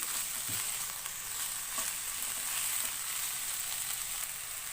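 Colourful vegetables, chopped lengthwise, sizzle and fry steadily in a hot pan while being stirred, a constant bright crackle with occasional clinks from the utensil.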